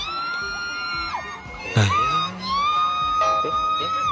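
Someone shouts in long, high-pitched sustained yells, with a sharp burst in the middle and noisy chatter in the background.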